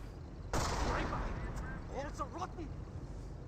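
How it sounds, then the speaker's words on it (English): A sniper shot in the World War II strategy game Company of Heroes cracks out as one loud, sharp blast, then fades into a rumbling battle ambience with faint voices from the game. "Volksgrenadiers now receiving some sniper shots."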